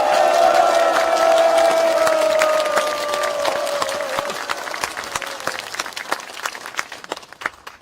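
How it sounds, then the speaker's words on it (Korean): A crowd at a political party rally claps loudly and steadily, with a few cheers at first, then the applause thins out and fades over several seconds. "정말 오늘 왕림해 주신 우리 황교안 대표님께 여러분 뜨거운 박수 한번 부탁합니다"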